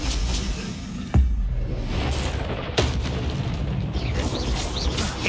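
Confringo explosive spell blasts in the video game Hogwarts Legacy: a sharp boom near 1.2 seconds and another near 2.8 seconds, each bursting over a dense, continuous rumble of game action and effects.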